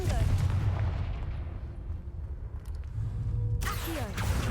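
A Confringo fire spell bursts in Hogwarts Legacy, a loud explosive boom with a rumbling tail, followed by a second blast near the end over steady game background noise.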